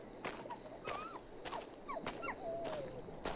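Dog whimpering in the horror video game Maid of Sker, a series of high, thin whines and short yelps rising and falling over a few seconds, fairly close over a low background.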